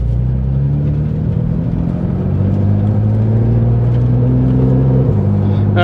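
Porsche 911 GT3 with PDK gearbox and sport chrono, its engine running steadily loud and close with a deep rumble, pitch rising and falling as it revs, a brief dip and higher rev near the end.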